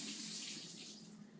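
Tap water runs steadily into a sink, rinsing grape tomatoes with a soft, continuous hiss and splash that fades slightly toward the end, with no voices.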